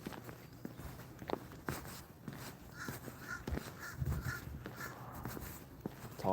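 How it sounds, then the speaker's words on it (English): A crow caws several times from nearby, its calls spaced out over crunching footsteps of someone walking outdoors. "There's a crow watching me."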